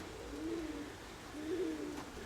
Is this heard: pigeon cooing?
yes